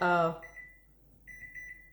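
An electronic timer alarm beeping at home, set while a pool was filling with water: a brief tonal sound at the start, then thin, steady high beeps in two short bursts, fairly faint.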